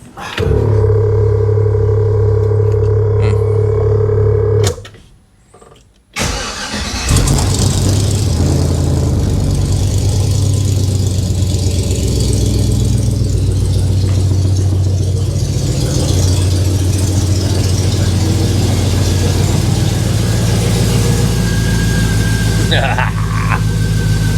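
A 1950 hearse with a swapped LS V8 runs loud and close, cutting out briefly before restarting and settling into a steady, rumbling idle.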